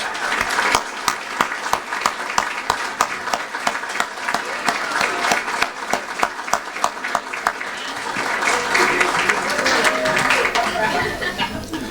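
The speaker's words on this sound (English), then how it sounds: "Please stand and receive a round of applause" An audience at a Hall of Fame breakfast ceremony gives a sustained round of applause for the current ODU Sports Hall of Famers, with dense steady clapping, some laughter and chatter, and crowd noise swelling toward the end.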